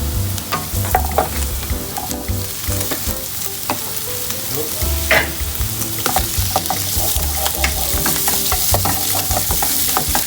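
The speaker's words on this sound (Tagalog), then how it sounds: "Brown lang natin ang garlic. Just a bit brown." Garlic browning in a hot pan, a close, steady sizzle broken by clicks and scrapes of stirring throughout.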